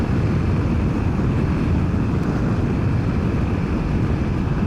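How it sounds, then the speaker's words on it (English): Heavy, constant wind roar buffets the microphone on a BMW F900XR motorcycle with a Puig touring windscreen cruising at highway speed, a dense low rumble and hiss filling the whole stretch without pause. "the bike is really pushing through the wind"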